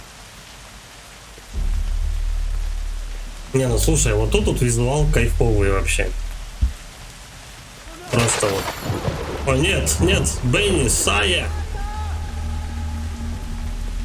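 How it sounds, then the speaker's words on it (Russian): Steady rain falling in a dark forest in the video game Kena: Bridge of Spirits, a constant hiss that swells louder partway in, with a sharp thump, while someone talks over it in bursts. "Прям темный лес, идет дождик."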